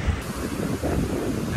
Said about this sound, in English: Back out here where it's windy